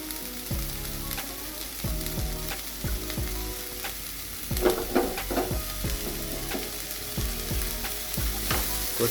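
Green gram curry (hesaru kalu usli) with plenty of onion fries steadily in a pan while fresh coriander is stirred through it, a continuous close sizzle broken by repeated scraping strokes of the spoon throughout.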